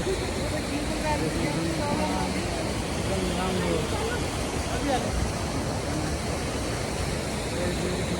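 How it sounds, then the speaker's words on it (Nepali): Steady broadband rushing of the Rupse Chhahara waterfall in Nepal, constant and fairly loud throughout, with faint voices and birdlike chirps mixed beneath the roar. "वाटरफल जे होस् रेनी सिजनमा चाहिँ एकदम ठुलो हुन्छ अरे"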